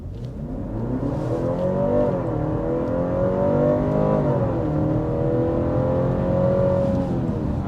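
A 2023 BMW 3-Series hybrid engine drones steadily under hard acceleration toward 60 mph, pitch climbing, dipping at a gear change, then rising again, loud and close throughout.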